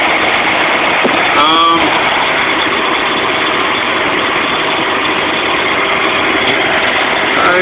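A non-turbo 1983 Datsun 280ZX idles steadily at close range with an even engine drone and a short rev flutter early on, and a voice talks over it.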